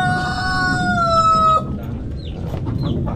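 A large rooster on a calamansi farm gives a loud, close crow lasting over a second, followed by softer clucks and outdoor background noise.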